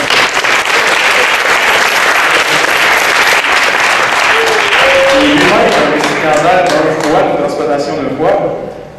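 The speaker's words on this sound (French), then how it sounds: "on peut l'applaudir s'il vous plaît" Loud, sustained applause fills a hall at a charity event promoting organ and tissue donation, with crowd murmur and voices rising underneath as the clapping continues.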